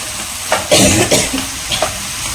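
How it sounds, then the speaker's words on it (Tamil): A spatula scrapes and stirs vegetable pulao masala in a hot pan over high flame, giving a few distinct scraping strokes over a steady sizzle, close and fairly loud. "ஹை ஃப்ளேமில் வச்சே தான் மிக்ஸ் பண்ணுறேன்."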